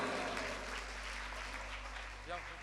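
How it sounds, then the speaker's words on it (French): Audience at a youth talent showcase evening applauding, a steady wash of clapping with a voice speaking over it and a low hum beneath. "On peut les applaudir, on peut les applaudir."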